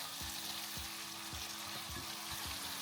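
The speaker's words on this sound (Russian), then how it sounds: "Если чуть-чуть она поджарится и наберет аромата от копченой паприки" Food sizzling steadily in a hot pan with smoked paprika, dense continuous crackle and spitting close up, with soft periodic low thumps throughout and no talking.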